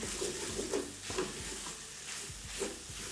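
Meat searing in a very hot pan for a Bolognese pasta sauce, a steady close sizzle with stirring scrapes and small pops repeating in a loose rhythm.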